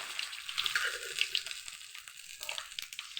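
Soft hiss and crackle of food sautéing in a pan, faint and steady with small pops, and no voices.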